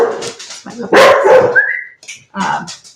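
A pet puppy barks and yips loudly and close by in several sharp bursts, with a high whining tone trailing off, while a person talks in between.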